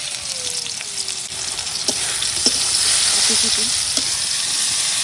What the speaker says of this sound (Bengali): এখন এই বাটা পেঁয়াজ রসুনটাও কিছুক্ষণ বাইজে নিলাম।